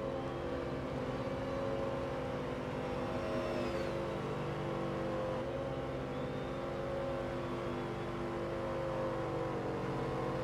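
A GT3 race car engine in Forza Motorsport pulls steadily under acceleration, a loud, sustained droning whine with rising pitch, other cars faintly around it and no voices.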